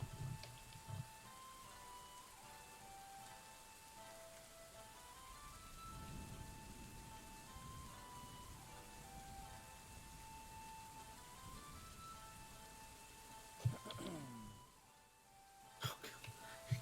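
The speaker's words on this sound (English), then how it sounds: "Here comes the rain." Steady rain falling in the video game Dwarf Fortress, in adventurer mode, a soft continuous hiss with game music tones above it and a few sharp clicks near the end.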